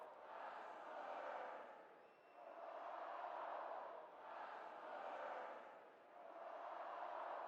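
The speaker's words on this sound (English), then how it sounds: "The crowd picks up a small chant here" A hometown football crowd in Salt Lake chants for the Rustlers: a distant, muffled mass of voices swelling and fading in a steady repeating rhythm of about four rises.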